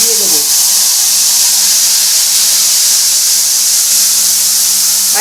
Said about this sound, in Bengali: এবার দেখো এই যে সর্ষেটা গুলে রেখেছি,